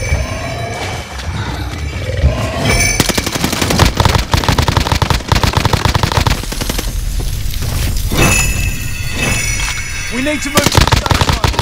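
Dense automatic and single gunfire bursts crackle loud and close during a Call of Duty Warzone match, nearly continuous with brief lulls, while a voice speaks briefly over the shooting.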